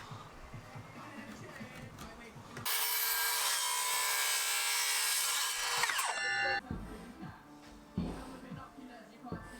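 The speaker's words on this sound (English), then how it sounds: "I need to cut the ends of these at 45 degrees, so I used my speed square to guide the cut" A saw cuts the end of a wooden diagonal brace at 45 degrees for a shed door, one loud, steady, close burst of about four seconds, framed by softer handling knocks and bumps before and after.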